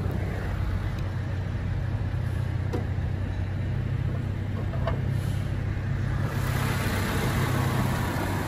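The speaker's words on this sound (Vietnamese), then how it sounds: "Đây là con động cơ của em đang cho nổ máy luôn, Innova 2013 đó" A 2013 Toyota Innova's engine idles steadily, with a constant low rumble and hum close by that holds even for the whole stretch, with no talking over it.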